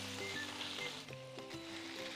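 Adobo meat sautéing with minced garlic in a pan gives off a soft, steady sizzle beneath louder stepping background music, fairly faint overall.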